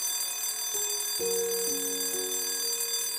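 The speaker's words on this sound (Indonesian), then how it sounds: "Jam dinding tua di dinding berbunyi lebih keras dari biasanya." An old wall clock in a classroom chiming loudly, its sustained ringing tones stepping in one after another over a steady background hum, with no talking.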